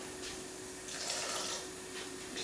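A small pour of water, about a teaspoon, goes into crepe batter, heard as a faint, soft trickle with brief splashy bursts in a quiet kitchen.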